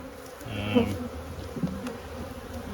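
Honey bees hum around an open hive during a fall inspection, a steady close buzz with a brief louder individual bee passing near, and a few soft knocks of frames and tools over the background drone.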